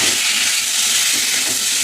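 Coriander, cumin, chili, Kashmiri chili and turmeric frying in a pan give off a steady, close, bright sizzling hiss that holds evenly for about two seconds.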